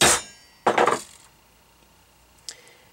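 Spoon tapped down on a flatware spoon bracelet and ring bender: a few sharp metallic taps, one hard hit, then a short cluster of knocks and a lighter tap after a pause, close and alone.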